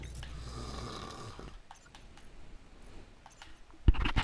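A person snoring with low, rumbling breaths during the first second and a half, followed by quieter, scattered clicks and taps and a sharper knock near the end.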